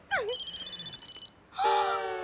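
A phone rings with a bright, warbling electronic tone in two bursts separated by a short pause, loud and close, with a brief voice at the start.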